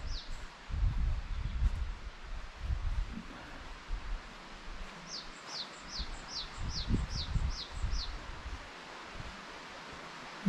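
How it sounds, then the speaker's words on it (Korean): Birds singing in the grounds of Seonamsa temple, where plum trees are in bloom: a short rapid series of high chirps, moderately distant, over wind, rustling and soft outdoor ambience. "이 안에도 새소리도 있고, 새소리도 들리고, 새소리 들립니까?"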